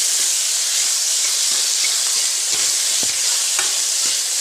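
Chopped onion and garlic frying in a hot pan for a dry vegetable dish, a loud continuous sizzle and hiss with light stirring scrapes, no voices.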